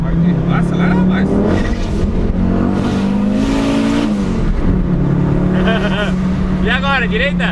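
Fiat Marea Turbo with a heavily modified engine revving and accelerating hard from inside the cabin, a loud steady drone rising in pitch, with people talking over it throughout.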